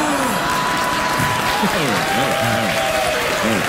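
A late-night talk show studio audience delivers loud, sustained applause, thick steady clapping with some voices mixed in throughout.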